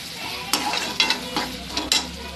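Vegetables stirred and fried in a pan, with a steady sizzle broken by four sharp scraping stirs spaced about half a second apart, close and clear with no talk.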